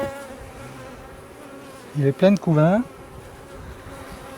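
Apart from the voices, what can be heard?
honey bees buzzing during beehive inspection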